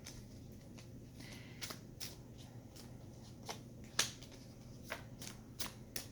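Slippery tarot cards are shuffled by hand in a quiet room. Soft riffles and light slaps sound close but faint, with a few sharper snaps scattered through.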